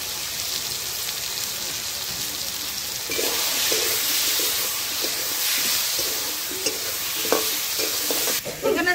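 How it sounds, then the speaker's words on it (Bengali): Spices frying in a pan with salt, turmeric and ground pastes of green chilli, ginger, cumin, garlic and onion, a steady close sizzle with hiss that grows louder partway through, with light stirring scrapes and no talk. "সব রকম মশলা, কাঁচা লঙ্কা বাটা, আদা বাটা, জিরা বাটা, রসুন বাটা, পেঁয়াজ বাটা একসঙ্গে দিয়ে ভেজে নেব।"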